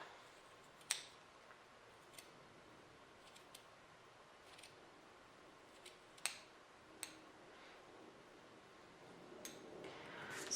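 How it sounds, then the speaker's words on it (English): Scissors cut through knitting during steeking, giving several faint, sharp snips spaced a few seconds apart over a quiet background. "And so I'll take my scissors and I just cut."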